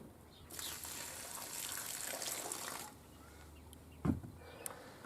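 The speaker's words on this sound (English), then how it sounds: "I'll pour the water out till it's about down to there" Water is poured out of a bucket outdoors, a steady gushing splash lasting a couple of seconds, followed by quiet and a brief clunk near the end.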